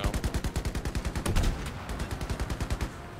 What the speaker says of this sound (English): Machine gun guy, please stop shooting